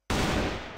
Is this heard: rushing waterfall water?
no